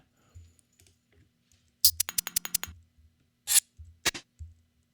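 Fingers tap on a computer keyboard in a quick burst of crisp keystrokes, followed by a few more isolated clicks, close and clear in a quiet room.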